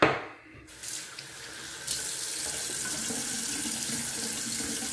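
Water running steadily from a bathroom tap while tabac shave soap is being lathered, a close, continuous hiss and splash that starts after a brief quiet moment and carries on alone.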